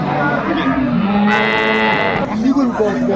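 A cow moos loudly and close by at a cattle market, a long drawn-out low call with a rising, strained middle, followed by faint background murmur.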